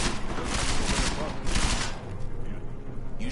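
Rapid gunfire in the video game Deus Ex: Mankind Divided, loud bursts of overlapping shots for about two seconds before tapering into quieter clatter and echoes.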